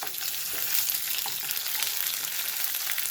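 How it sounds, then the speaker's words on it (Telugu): Onion with ginger and garlic fries in oil, making a steady bright sizzle with a few faint stirring clicks, close and continuous without any talk. "కొంచెం బ్రౌన్గా వేగాలి నూనెలో మరి తెల్లగా అస్సలు ఉండద్దు"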